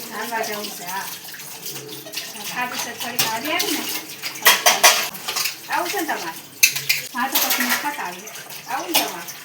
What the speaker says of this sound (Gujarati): હા, વાસણ કરો છો? કેટલા રહ્યા હજી?